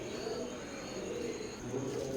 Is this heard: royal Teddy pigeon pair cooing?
yes